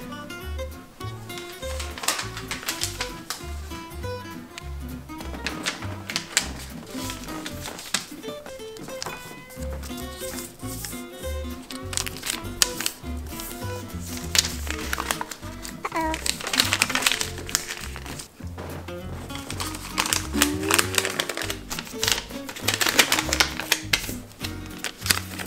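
Colored paper is folded into a paper airplane, with steady crinkling, creasing and rustling that runs continuously, close up and busy, while children speak intermittently over it.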